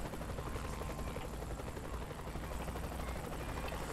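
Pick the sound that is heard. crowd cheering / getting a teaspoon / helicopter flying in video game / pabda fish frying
helicopter flying in video game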